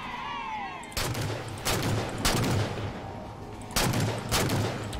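Rapid gunfire bursts from the video game Halo 4, several loud bursts starting about a second in and repeating in quick clusters, with a faint electronic tone at the start and no talk.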